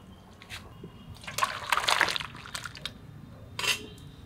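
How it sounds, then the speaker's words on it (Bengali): Mutton and potato curry pours from a pot with a few wet splashes and sloshes, a louder burst in the middle and another brief one near the end, close by in a quiet kitchen. "এখন তরকারিটা ঢেলে দেবো"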